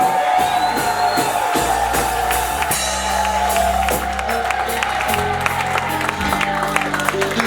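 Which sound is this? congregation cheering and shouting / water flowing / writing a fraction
congregation cheering and shouting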